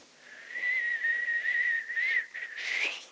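A wind instrument played softly to imitate a gentle mountain breeze gives a steady, airy whistling tone that holds for about three seconds and swells brighter near the end, with no talk over it.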